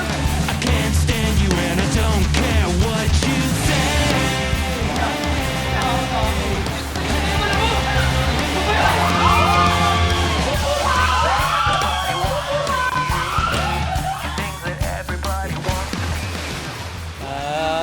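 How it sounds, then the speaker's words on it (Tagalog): Loud excited screams and whoops from a group of people riding a water slide at a water theme park, over rushing, splashing water, continuing for most of the stretch. "Narinig niyo yung mga sigawan."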